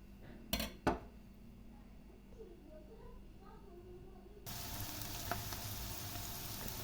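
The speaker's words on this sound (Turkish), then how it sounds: "Doğramış olduğumuz soğanlarımızı ilave edelim ve biraz pembeleştirelim" Onions sizzling in olive oil in a pan, a steady crackling fry after a couple of sharp clinks of a utensil against the pan.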